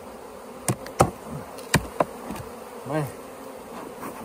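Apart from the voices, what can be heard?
honeybees in the bottom hive box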